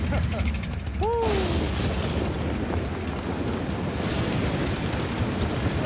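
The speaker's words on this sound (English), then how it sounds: "It's raining!" Steady rain falls with a dense, broad hiss, along with rumbling noise, a brief whistling chirp and voices talking.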